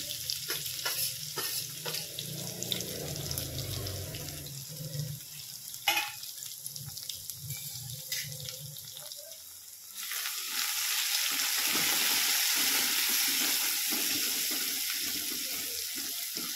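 Green chillies dropped into hot oil in a pan for moong dal bhaji, frying with stirring scrapes at first, then a loud sustained sizzle that swells and holds.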